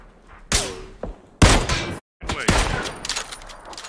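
Enemy gunfire from inside a house in PUBG on the Miramar map, a few loud, sharp bursts of shots with brief gaps between them, close and punchy.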